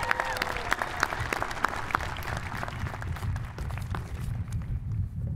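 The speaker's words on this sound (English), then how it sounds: "Let's give a loud round of applause to the Titans class of 2017." Crowd applause for the Titans class of 2017 at a Cal State Fullerton university commencement ceremony, steady dense clapping from a large distant audience with faint cheers.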